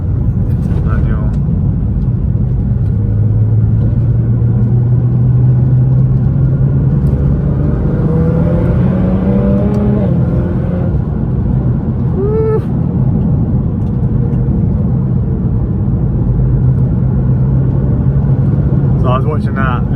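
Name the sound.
Nissan GTR R35 engine while driving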